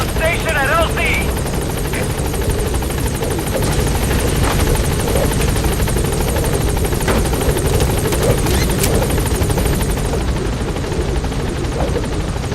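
Helicopter lifting off in Metal Gear Solid V, a loud continuous rotor thump and engine whine held close throughout, with brief radio chatter and faint game sounds over it.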